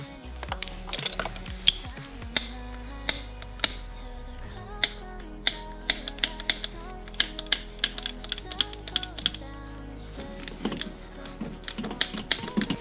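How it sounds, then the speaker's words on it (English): A torque wrench tightens spark plugs to about 10 foot-pounds on a Ford Focus 2.0 or 2.3 engine, producing sharp, close ratcheting clicks that repeat in irregular runs throughout. "We are going to torque them with a torque wrench"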